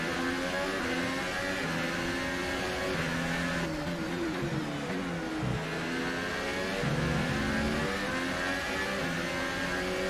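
A Formula 1 car at full power in F1 2018, a McLaren racing in the Azerbaijan Grand Prix, holds a loud sustained engine howl with rising and dropping pitch across gear shifts, no talking.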